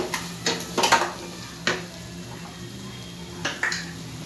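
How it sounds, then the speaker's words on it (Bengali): Semolina dough with sugar being stirred in a frying pan, with intermittent scraping and clinking of a utensil against the pan in short clusters over a faint background hum. "নেড়ে চেড়ে এভাবে মিশিয়ে আস্তে আস্তে আমি ডোটা তৈরি করে নিব।"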